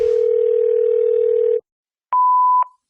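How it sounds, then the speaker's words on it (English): A telephone dial tone opens a played call-in hotline, a loud steady hum lasting about a second and a half, then a pause followed by a short higher electronic tone with clicks. "Thomas, play the hotline."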